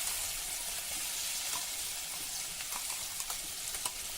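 Garlic-chili kharda sizzles in about two tablespoons of hot oil in a kadhai, a steady close frying hiss with occasional small pops and stirring.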